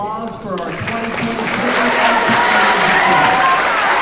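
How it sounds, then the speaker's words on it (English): Audience at a 4th-6th grade school awards assembly breaks into applause and cheering, starting under lingering voices and building into loud, sustained clapping with shouts mixed in. "Round of applause for our"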